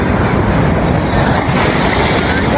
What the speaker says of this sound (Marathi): हे बघा नदीला किती पूर आलेला आहे पावसामुळे